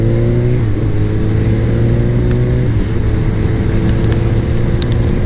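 A 2006 motorcycle engine hums steadily while riding at about 50, with a loud, constant drone and a slight shift in pitch partway through, close and continuous with no talking.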